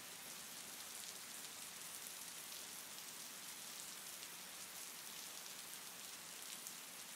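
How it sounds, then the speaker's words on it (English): Steady falling rain pattering on a surface, a continuous broadband hiss that stays even and fairly close throughout, with no voices. "I love the sound of falling rain"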